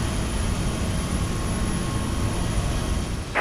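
A Boeing 737 engine starting up in the X-Plane 12 flight simulator, heard as a steady, loud, broadband roar and whine that runs unbroken with no voices.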